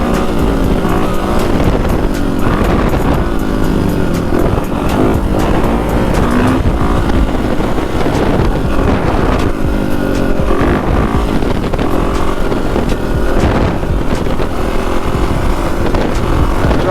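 Dirt bike engine riding through downtown Chicago streets, a loud continuous motor roar with shifting revs and throttle changes, close and dense throughout, mixed with passing traffic and city noise.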